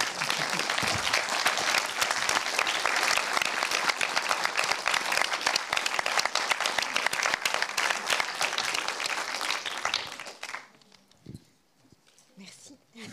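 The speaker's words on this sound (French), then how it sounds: "Est-ce qu'on pourrait applaudir tous nos intervenants ?" Sustained loud audience applause for the speakers at a conference closing, thick and continuous for about ten seconds before dropping away to a quiet room with scattered faint sounds.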